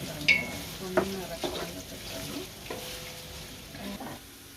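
Onions fry in a pan for homemade biryani, a soft steady sizzle with a few scraping stirs of a spoon across the pan; fairly quiet, with no speech over it.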